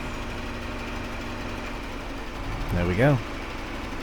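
A forage harvester engine in Farming Simulator 22 drones low and steady at idle throughout, with a brief spoken phrase near the end.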